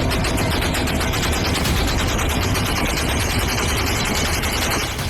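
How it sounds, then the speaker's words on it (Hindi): Dense bursts of gunfire rattle continuously in a Syrian city conflict zone, loud rapid shots with an engine rumble underneath. "जरा सा शक होने पर बगैर चेतावनी यहां दर्जनों गोलियां बरस रही हैं"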